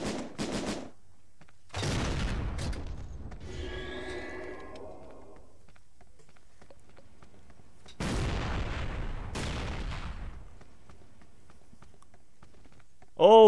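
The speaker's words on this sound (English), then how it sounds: "Oh, sick, that second grenade." Grenade explosions in an online war shooter set in the Resistance game world: two broad, loud booms about six seconds apart, each followed by rumbling debris, with quieter battle noise between them.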